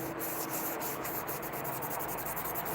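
Sanding slings by hand, a steady rhythmic rubbing stroke repeating roughly every quarter second, close and continuous with a dry abrasive hiss and no voices.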